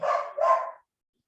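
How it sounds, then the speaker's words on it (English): A dog with spring fever gives a quick double bark at the door, two short yapping bursts back to back, fairly near, followed by silence. "I have dogs who have spring fever. So you might hear a dog every now and again."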